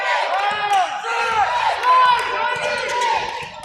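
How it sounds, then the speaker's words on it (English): High school boys basketball crowd, Lanier against Pelahatchie, cheering and shouting loudly in a gym, a dense rising roar of voices with some clapping. "Crowd's coming alive."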